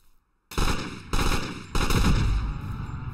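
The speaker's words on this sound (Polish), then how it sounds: "Jak strzelamy w krowy, to one wybuchają." Bursts of automatic Thompson gunfire in a farm-themed video game, three loud sustained volleys of rapid shots starting abruptly after a brief quiet moment, close and harsh.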